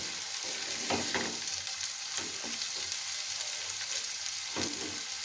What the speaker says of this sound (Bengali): কুচিয়ে রাখা পেঁয়াজগুলো আমি এর মধ্যে দিয়ে দিলাম দিয়ে আবার খুব ভালো করে এর সাথে মিশিয়ে নিচ্ছি